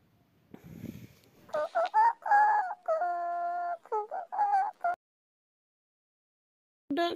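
A rooster crows and clucks in a run of loud, close calls with a stuttering rhythm, then falls silent before one last short call at the end.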